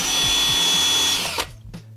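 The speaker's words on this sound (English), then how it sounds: "Drill pilot holes at the bottom and another one at the top." A power drill boring pilot holes into the side of a furniture unit, a loud steady whir that runs for over a second before cutting off, followed by a couple of short faint knocks.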